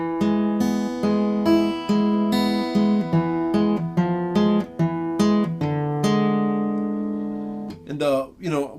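Acoustic guitar plays measures 5 and 6 of the Giuliani Allegro, a clear close run of plucked chords and notes in steady rhythm that rings out and fades at the end before a short bend.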